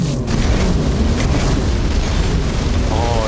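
A booming explosion in the fantasy role-playing game Tainted Grail: The Fall of Avalon rumbles loud and continuous throughout, a dense low roar with a brief distinct thump near the start.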